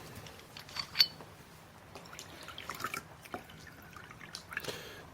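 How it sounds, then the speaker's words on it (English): Wine poured at a dinner table in a period drama, a faint irregular liquid trickle with scattered drips and clinks against quiet background. "Then pour her wine."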